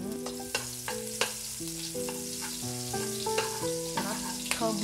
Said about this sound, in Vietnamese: Rồi mình xào, ta thả củ hành tím của mình vô phi cho thơm.